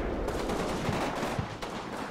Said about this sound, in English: Wildly inaccurate artillery.